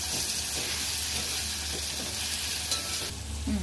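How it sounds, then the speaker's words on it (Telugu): Boiled green chillies and chana dal fry in a pan with a steady, close sizzle and hiss, broken by faint stirring scrapes and a brief clink near the end. "అవి కూడా మంచిగా కొంచెం సేపు 5 నిమిషాలు ఫ్రై కావాలి"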